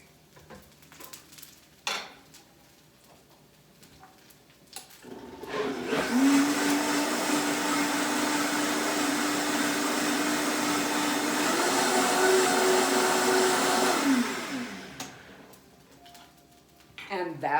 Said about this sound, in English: I'll be right back. I'm going to blend.